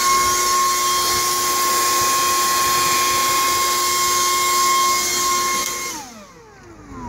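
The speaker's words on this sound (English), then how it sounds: "Love that blower." A Makita cordless leaf blower runs at speed level 6 with a loud, steady high-pitched whine and rushing air, then spins down with a falling tone near the end.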